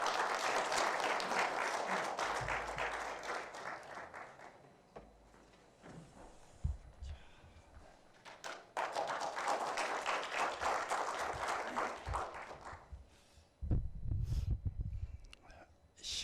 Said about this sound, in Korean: 손상현 회장님을 강연 단상으로 모실 때 뜨거운 박수로 맞이해 주시면 감사하겠습니다